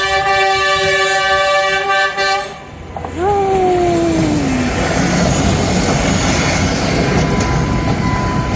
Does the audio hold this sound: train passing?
yes